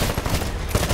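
Dense automatic gunfire from the Titanfall video game, a loud, continuous burst of rapid shots filling the whole moment.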